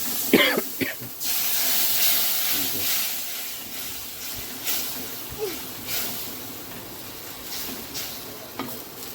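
Onions frying in a pan with chili, turmeric and spice powders, a steady hiss of sizzling with occasional stirring scrapes and a few brief nearby noises, loud and close.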